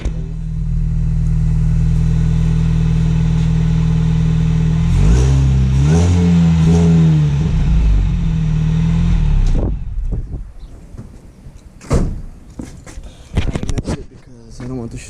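A Mini Cooper R53 fitted with a new header and catback exhaust idles loudly up close, blips through a few rising and falling revs, then shuts off, followed by scattered clunks and handling noises.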